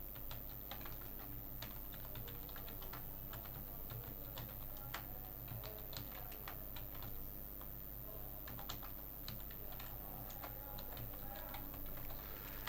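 Someone types steadily on a computer keyboard while writing in a Word document, with quiet, rapid key clicks running throughout over a faint steady hum.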